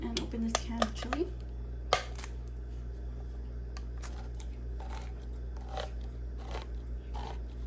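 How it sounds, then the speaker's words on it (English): A can of chili being opened in a kitchen, a series of small sharp metallic clicks and scrapes near the start, then quieter scattered scraping over a low steady hum. "I'm going to go ahead and open this can of chili"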